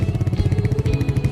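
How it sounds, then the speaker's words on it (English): Royal Enfield Meteor motorcycle engine running with a steady, throbbing exhaust note, loud and close, its low pulsing beat continuous throughout with no talk. "It's a high torque engine, it's a signature engine sound, a very signature exhaust note."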